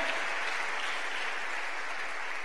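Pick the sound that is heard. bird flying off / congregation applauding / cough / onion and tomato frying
congregation applauding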